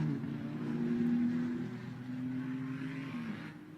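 A Ferrari Challenge race car at Indianapolis accelerating down the back straight, its engine a sustained droning tone heard from a distance, faint and steady with slight pitch shifts.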